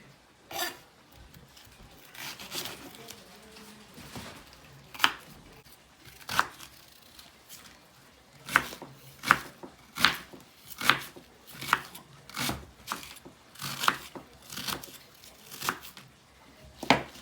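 An onion is chopped with a knife on a board for hamburger soup, a slow uneven run of sharp, fairly close cuts that come faster toward the end.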